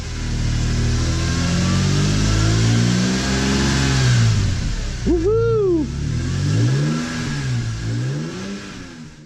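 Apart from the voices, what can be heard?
BMW E46 M3 S54 engine revving after Vanos rebuild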